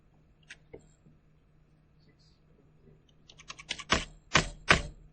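Computer keyboard typing during a physics calculation, a few scattered quiet clicks, then a brisk burst of louder, closer keystrokes near the end, heard alone with no talk.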